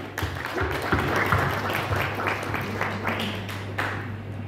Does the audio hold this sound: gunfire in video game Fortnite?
no